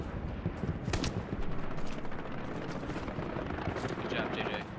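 Video game gunfire rattles in dense, continuous bursts with booming impacts, a loud battle soundscape with no clear pauses.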